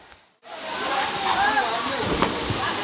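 Nhavankond waterfall at Talebazar roars as a dense, steady wash of falling water that swells in after a brief quiet start and stays loud and unbroken, with faint voices now and then.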